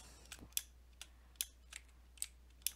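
Sparse, quiet clicks of keys on a computer keyboard, a handful of separate sharp taps spaced irregularly over a few seconds with no talking.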